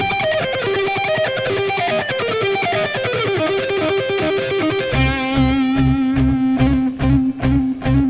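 A classical melody plays on heavily distorted electric guitar, fast runs giving way to chugging chords and punchy drums.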